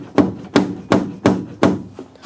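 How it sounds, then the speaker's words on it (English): A car hood on an LS quad-turbo build strikes the engine pulley, five or six sharp hollow knocks at an even pace, each fading quickly, heard up close without talk. "It's basically hitting the pulley here and hitting the pulley right there"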